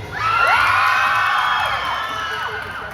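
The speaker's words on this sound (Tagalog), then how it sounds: "Sino may malakas na palakpakan at sigawan will have 1 point." A large crowd at a Kapuso fans day event in Cebu screams and cheers loudly, with high shrieks and whoops sustained for the whole stretch. Applause is not distinct beneath the shouting.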